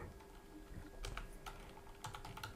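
Keys clatter on a computer keyboard as text is entered into a search box, with quick clusters of close, light keystrokes over a low steady hum.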